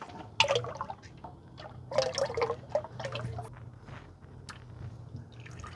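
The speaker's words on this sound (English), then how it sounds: "we're just draining our oil filter, pretty easy to get to" Engine oil drains from the removed filter of a Duramax diesel pickup, giving wet dripping and trickling with squishy splashes and a low steady hum behind it.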